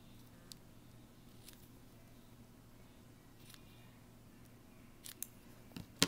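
A few soft, sparse scissor snips trimming paper stamps close over a quiet room hum, ending with a quick cluster of sharper cuts.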